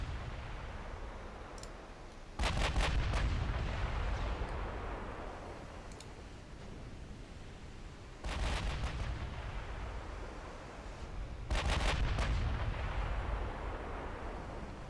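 Heavy naval guns fire and shells strike the battleship Bismarck in a dreadnought naval combat game, three loud booming salvos with rumbling, crackling impacts spaced several seconds apart over a constant low background roar.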